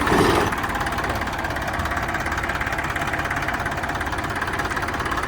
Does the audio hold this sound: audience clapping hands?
no